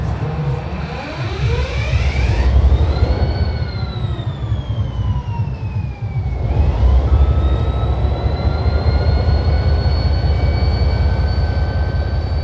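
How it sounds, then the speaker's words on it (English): Amtrak F40PH diesel locomotive running at a railroad museum, a loud, steady rumbling engine throb with a rising and falling whine layered on top, close by and continuous. "they were running their Polar Express trains with their Amtrak F40PH and an old SP tunnel motor"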